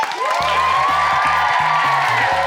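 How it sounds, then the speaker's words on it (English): A children's show audience cheers and shouts loudly and continuously throughout, with a rhythmic beat of background music underneath and no distinct claps standing out. "Give him a round of applause."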